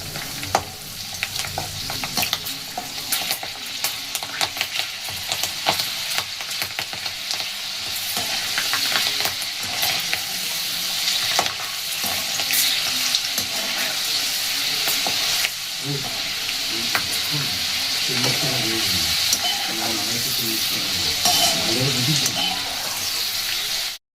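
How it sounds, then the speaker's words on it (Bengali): Lentils fry in hot oil over lowered heat, a dense, loud continuous sizzle with scraping stirring sounds running through it for the whole stretch. "দেখুন তেল গরম হয়ে গেছে, আমি এখন আঁচটাকে একটু কমিয়ে দেব আর দিয়ে দিলাম।"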